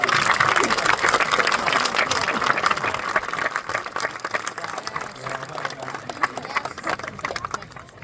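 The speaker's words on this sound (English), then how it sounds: "how about a big round of applause again, please?" An outdoor audience at a free bird show at Healesville Sanctuary, Melbourne, claps in steady, sustained applause that gradually thins, with someone speaking over it.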